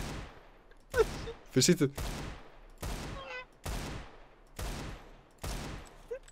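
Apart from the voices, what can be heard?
gunshots in the video game Counter-Strike: Global Offensive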